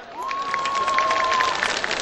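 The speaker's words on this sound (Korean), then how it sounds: "여러분 박수 함성!" Crowd applause and cheering at an outdoor spring flower festival in Yeouido, steady and fairly close, with a long whistle-like tone running through the middle.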